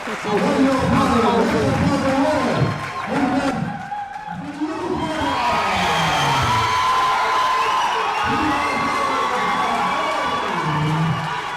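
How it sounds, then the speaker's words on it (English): Boxing crowd in an uproar after a bout at a memorial tournament, loud sustained cheering and shouting that dips briefly then swells again, with a commentator's voice running over it. "the crowd is in an uproar as that bout is given to Peter Murray of Barbados"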